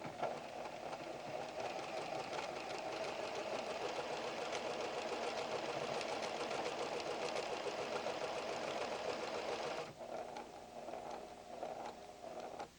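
A PFAFF creative 7550 sewing machine stitches a single decorative pattern on fabric, a steady, close mechanical whir with rapid needle pulses running for about ten seconds, then easing to a lighter, uneven hum.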